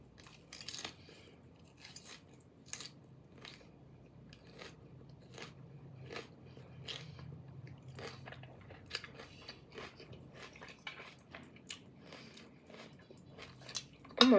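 Quiet, close crunching bites and chewing of a large salad bowl, irregular crisp crackles repeating steadily through the stretch, with a louder clatter at the very end.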